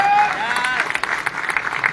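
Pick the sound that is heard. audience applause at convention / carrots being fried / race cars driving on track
audience applause at convention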